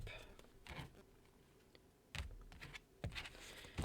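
Tarot cards being shuffled and cut by hand, with a few short bursts of riffling and tapping separated by quiet gaps, close and fairly soft.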